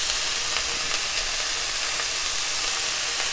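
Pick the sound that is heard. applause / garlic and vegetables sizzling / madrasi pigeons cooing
garlic and vegetables sizzling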